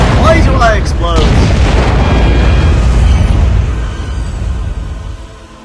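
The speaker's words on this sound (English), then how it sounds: "Why do I explode?" A player's craft explodes in the underwater game Aquanox, a loud, deep booming blast that rumbles and slowly fades over several seconds, with brief electronic whooshes at the start.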